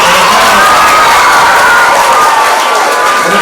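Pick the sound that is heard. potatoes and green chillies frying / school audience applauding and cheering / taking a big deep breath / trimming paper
school audience applauding and cheering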